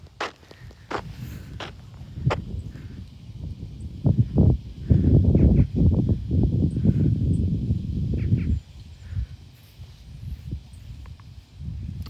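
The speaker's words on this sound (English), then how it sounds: "You guys hear sound like weird, like a bird sound, right?" Odd honking bird calls ring out in a grassy area, arriving as a few scattered cries over rustling footsteps and brushing through the grass.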